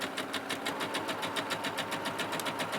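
Sewing machine stitching a French seam with wrong sides together on a dress, running at an even pace up close with a rapid regular needle pulse throughout and no talk.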